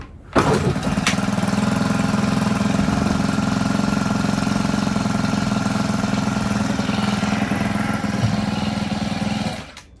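A cold engine idles steadily as it warms up, a loud, close, even rumble that starts abruptly and holds for several seconds before cutting off, with no voices.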